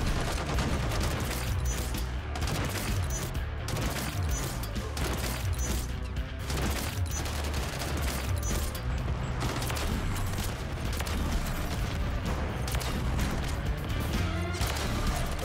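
Gunfire from the MORS sniper rifle with a dot sight in Call of Duty MW3, heard as loud, dense shots and impacts within a continuous, busy game mix of battle noise and music.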